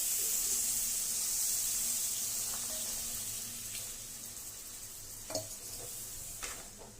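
Water is poured into chicken liver curry spiced with turmeric, chili powder, garam masala and coriander powder, giving a bright sizzle that fades as stirring clinks and scrapes come through near the end.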